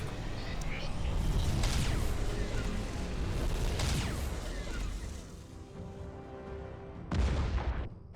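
Nova cannons fire during a space battle in Star Trek Armada 2, producing heavy rumbling blasts at about 1.5, 4 and 7 seconds over a steady layer of game battle noise.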